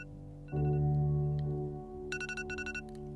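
An alarm sounds a sustained electronic tone, then switches to a rapid repeating ringing pattern, fairly loud and alone.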